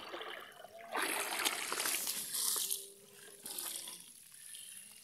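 Clean well water pours and splashes into a basin, a bright rushing stream that swells, dips and surges again over a few seconds.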